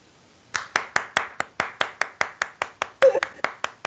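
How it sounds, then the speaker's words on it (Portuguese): One person, Dutra, clapping hands in a classroom after a short open lecture, about sixteen sharp, evenly spaced claps close by, with a brief burst of voices partway through. "Já conheço as palmas do Dutra"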